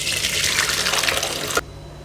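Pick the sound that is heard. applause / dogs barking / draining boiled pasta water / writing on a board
draining boiled pasta water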